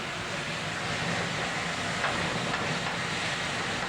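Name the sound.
garlic and white wine sizzling while sauteing in a pan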